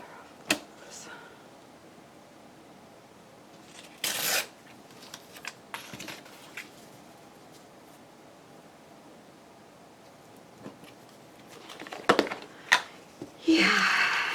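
Paper is torn for a craft journal in a few short, close ripping bursts scattered between quiet stretches, with faint rustling in between.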